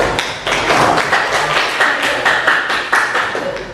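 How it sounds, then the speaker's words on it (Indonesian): Hand clapping from an audience at a university class presentation, a short burst of fairly sparse, distinct claps with uneven rhythm, moderately close and without talk. "Tepuk tangan"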